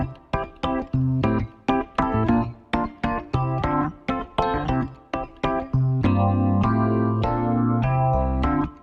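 A bright, uplifting chord progression transposed up a couple of semitones, played as rhythmic, repeated chords that shift into longer sustained harmonies near the end, loud and clear with no voices.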